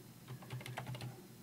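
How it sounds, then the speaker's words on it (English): Rapid keystrokes on a computer keyboard as commands are entered on a Windows Server 2016 machine: a quick, irregular run of close, crisp clicks with no voices. "So we're going to type some commands that will allow us to transfer the information"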